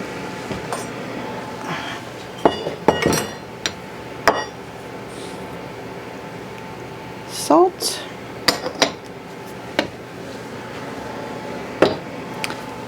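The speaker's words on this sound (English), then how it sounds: "I'm just going to stir that together real quick." Baking powder and salt stirred together in a bowl, giving a run of scattered clinks and light scraping taps from a utensil against the bowl, fairly close and moderately loud, with a steady faint background hum.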